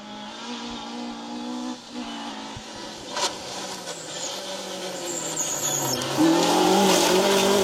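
A Vauxhall Nova race car goes by on a circuit with engines buzzing, tires squealing and skidding, the sound building louder toward the end.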